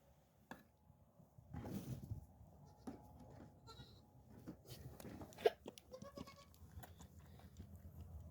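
A goat kid bleats in short, scattered calls while suckling, with soft rustling and shuffling nearby throughout and a sharper cry near the end.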